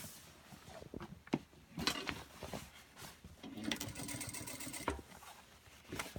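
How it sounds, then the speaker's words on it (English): A flatbed sewing machine stitching a folded jean-style hem, heard as short bursts of rapid mechanical needle clatter with pauses and small handling clicks between runs, close by with no talking. "This is why I like sewing on a flatbed machine."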